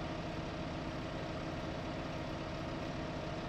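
A tractor engine idles in Farming Simulator 15, a steady, continuous low rumble with a broad mechanical hum that holds evenly at moderate level from start to finish, with no voices.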